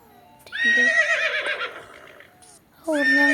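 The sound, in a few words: horse neighing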